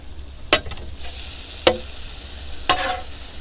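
Fajitas sizzle on a Blackstone griddle under a soft, constant hiss, broken by three sharp spatula scrapes and clanks against the flat-top as they are stirred, spaced about a second apart.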